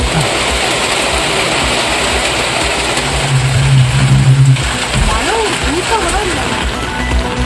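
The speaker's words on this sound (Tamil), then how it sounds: "நாகையை குளிர்வித்த கோடை மழை." Summer rain falling in Nagapattinam, a steady broadband hiss of rainfall that holds through the whole stretch, with a low humming tone in the middle and a voice talking over it.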